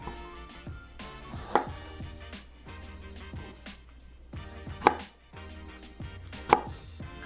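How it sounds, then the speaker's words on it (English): A kitchen knife cuts small triangular cores from the bottoms of peeled tomatoes for homemade tomato sauce, giving quiet repeated cutting taps with three sharper knocks on the board, close and with no voices. "You're just cutting a little triangle out of the bottoms of them."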